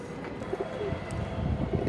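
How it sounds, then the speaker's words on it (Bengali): A Pakistani pigeon coos softly amid low rumbling background noise, with a few low throaty calls at close range and no voices. "এটা একটা পাকিস্তানি কবুতর"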